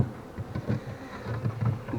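Close, continuous buzzing of honey bees at their hive, pulsing in loudness as they move about nearby.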